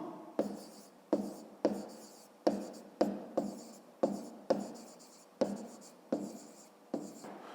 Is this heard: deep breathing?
no